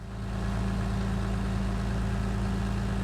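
A tractor engine in Farming Simulator 19 running steadily, a low droning hum with a constant rumbling tone that swells slightly at the start, then holds even and unbroken with no voices.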